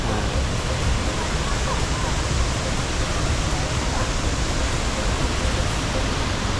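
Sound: large waterfall

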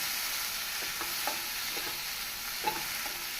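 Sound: sautéing chopped tomatoes in a pan

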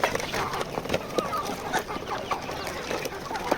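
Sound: free-range local (gavthi) chickens clucking

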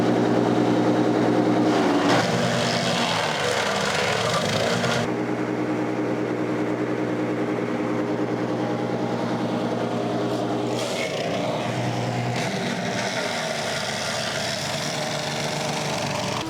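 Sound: wood chipper shredding tree branches

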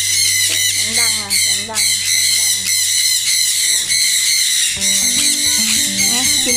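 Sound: parrot squawking loudly

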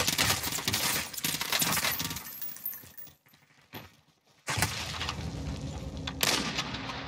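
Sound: gunfire in Call of Duty Black Ops Cold War video game

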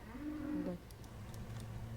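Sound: cow mooing

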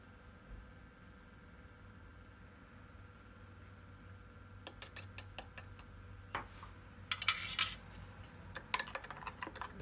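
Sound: spoon slowly stirring pudding mixture in a pot

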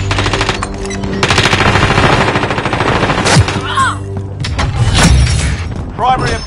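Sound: gunfire in the Warzone video game

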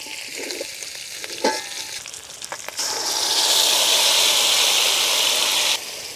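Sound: hilsa fish frying in pan, mixed with taro greens

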